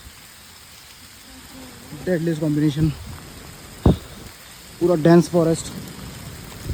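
Rain falls through the dense forest on the Rudranath trek in a steady, soft hiss beneath someone speaking, broken by one sharp click midway.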